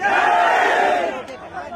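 A large rally crowd in Jaipur roars a sustained collective chant of "Jai Bhim", loud and close, swelling then tapering into scattered shouts.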